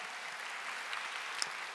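Steady applause from a seminar audience fills the room, a dense even patter of clapping that stays constant throughout with no voices over it.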